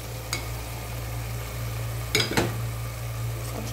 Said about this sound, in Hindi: इस तरीके से हिला लेंगे।